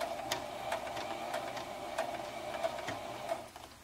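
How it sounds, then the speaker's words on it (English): A Brother XL2600 sewing machine running a hem stitch on folded fabric, a steady mechanical hum with regular ticking clicks of the needle, close and moderately quiet. "It will sew several stitches onto the hem part and then one stitch over to catch it on the fabric"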